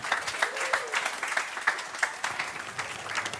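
Late-night show audience applauding, a steady crackle of many hands clapping at moderate distance with a few sharper claps standing out, sustained for a few seconds.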